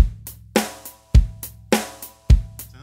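A Yamaha electronic drum kit plays a programmed pattern: deep kicks, sharp snare hits and ticking hi-hats repeating in a steady, punchy loop, loud and close with no voices.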